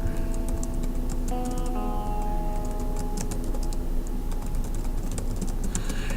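Steady clicking of keys on a computer keyboard, rapid and continuous, close up, with a faint hum underneath and no talking.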